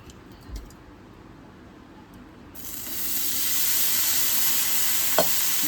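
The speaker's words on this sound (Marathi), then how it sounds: "तवा झालाय गरम आता मी टाकतो आपली" Vegetables hitting a hot tawa set off a sudden loud, sustained sizzle midway through, rising into a steady, close frying hiss after a quiet start with a few faint knocks.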